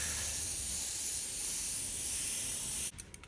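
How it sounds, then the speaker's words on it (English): An airbrush sprays paint in a light, gentle pass, giving a steady, close hiss for nearly three seconds before it cuts off abruptly, followed by a few faint clicks. "Remember, I'm just barely spraying on this."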